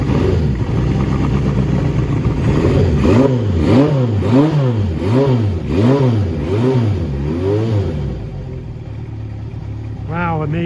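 A 1975 Honda CB750K motorcycle, started for the first time in six years, runs close by with a string of rhythmic rising and falling revs before settling toward idle, with a voice talking over it.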